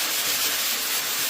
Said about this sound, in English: I know that needs to come off, so I'm just going to sand it off